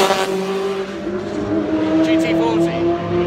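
A Ford GT40 race car roars past on a circuit during a Tour Auto event, its engine loud and rising then falling in pitch over a few seconds. A person talks over the noise.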